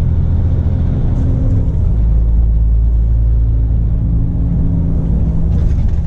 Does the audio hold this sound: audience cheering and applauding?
no